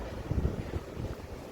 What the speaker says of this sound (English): A bit windy today, people.